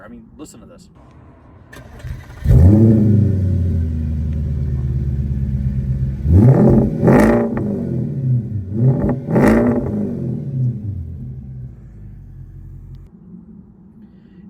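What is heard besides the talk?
Audi S5 engine starting and revving with AWE exhaust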